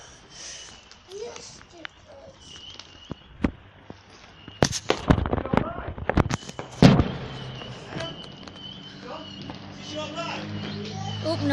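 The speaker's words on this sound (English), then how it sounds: "So yeah, some fireworks there." Fireworks bursting outdoors on Bonfire Night in the UK, a cluster of sharp cracks and bangs in the middle of the stretch with quieter pops before and after, while people talk and react nearby.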